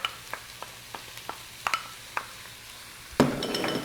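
Baby bella mushrooms are stirred in a pan with soft, evenly spaced taps and a faint sizzle, ending in a louder clatter of utensil against pan.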